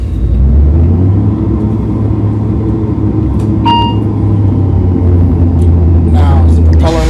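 A simulated aircraft engine in the Prepar3D flight simulator starts up and revs, a loud steady rumbling drone with a brief beep partway through and a short burst of other noise near the end.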